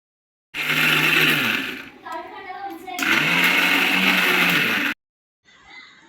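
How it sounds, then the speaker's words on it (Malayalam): A mixer grinder whirring loudly as it grinds sautéed onions, running in two bursts with a brief pause between them, close by, before it cuts off. "നമ്മൾ വഴറ്റി വെച്ചിരിക്കുന്ന സവാള ഒന്ന് അരച്ചെടുത്തിട്ട് വരാം"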